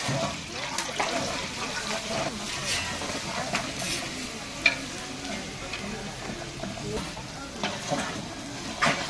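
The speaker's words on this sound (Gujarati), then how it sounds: "ઊંધિયાનો વઘાર લાગી ગયો છે" Undhiyu tempering sizzling in a large pot at an ashram community kitchen while being stirred, a steady loud crackling hiss with scraping stir sounds and nearby voices talking over it throughout.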